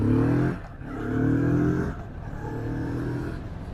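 A motorcycle engine revs and accelerates in repeated rising bursts, each pull climbing in pitch before a brief drop, heard close and fairly loud.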